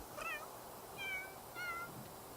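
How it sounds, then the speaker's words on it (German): A stray cat in the video game The Sims 3 meows three times in quick succession, soft, clear and fairly close. "Streunende Katze."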